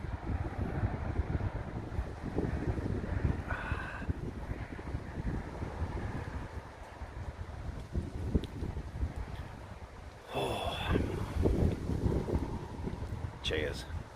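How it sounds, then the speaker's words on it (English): Chilly wind gusting across a graveyard wild camp at night, buffeting the microphone in heavy, uneven rumbling bursts, with a brief louder surge near the end. "Getting windy now,"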